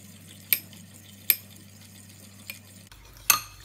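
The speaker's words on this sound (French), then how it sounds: "Et vous allez remuer." A utensil stirs gelatin into warm, not boiling, liquid cream for a Kinder cheesecake, giving a few bright clinks against the bowl, spaced apart, close and fairly quiet, with no speech.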